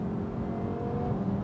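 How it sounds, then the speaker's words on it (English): Twin-turbo Audi R8 running about 1028 hp, its engine and exhaust droning steadily under hard acceleration in a dense, continuous low roar heard from inside the cabin, with no talking. "there's no more exhaust noise than there is engine noise"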